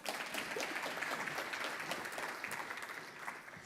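An audience at a conference applauds steadily throughout, a dense, even wash of clapping from a crowded room.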